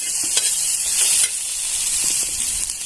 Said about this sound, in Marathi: छान असं परतून घ्यायचं आता मीठ सगळीकडे लागलं पाहिजे असं परतून घेऊया